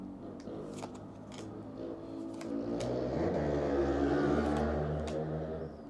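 A Pokémon Surging Sparks card pack torn open, foil crinkling and cards rustling steadily for several seconds at close range.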